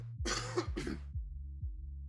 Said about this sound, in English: hold on, I need to cough again.